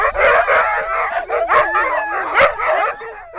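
Hungry Arctic sled dogs howl and yip together up close, a loud overlapping chorus of wavering howls broken by short barks.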